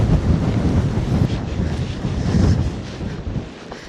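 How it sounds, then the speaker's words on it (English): Heavy wind buffeting a microphone outdoors on a bridleway walk, a steady loud low roar with gusty surges that ease off near the end. "Oh my gosh, the wind."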